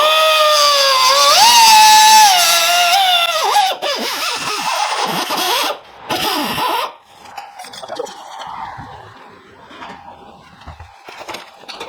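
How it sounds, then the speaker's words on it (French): An angle grinder cuts through hose clamps on a Nissan Terrano, starting with a loud, high, steady whine that gives way to grinding and scraping bursts with short pauses. "On va couper les colliers à la disqueuse."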